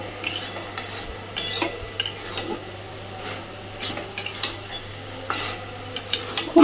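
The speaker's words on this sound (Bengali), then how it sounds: "ভালোভাবে মিশিয়ে দিয়ে আবারও ঢাকা দিয়ে দেবো" Elephant foot yam stems stirred and mixed in a pan, a string of loud metal spatula scrapes and clanks against the pan over a faint sizzle, with no talk.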